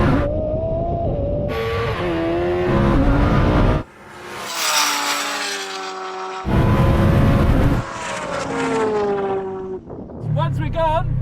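A Lamborghini Huracan and a Kawasaki H2R superbike race, engines revving and rising in pitch through gear changes, loud and close, with brief drops between runs and speech mixed in.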